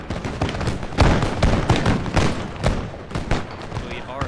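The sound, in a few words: musket gunfire at general in video game Total War Empire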